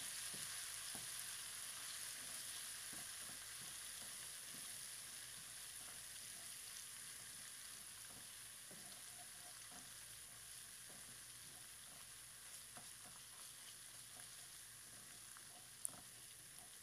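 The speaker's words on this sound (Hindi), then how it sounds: "तकरीबन 4 से 5 खाने के चम्मच कुकिंग ऑयल में हम अच्छी तरह से अदरक और लहसुन के पेस्ट को फ्राई कर लेंगे।" Ginger and garlic paste frying in four to five tablespoons of cooking oil for keema with bhindi, a steady close sizzle with occasional faint stirring scrapes and taps, no talk.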